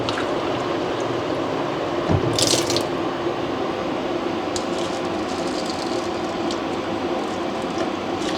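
Water runs steadily into a cooking pot for rice, a continuous splashing trickle with a brief louder clatter partway through, close and fairly loud.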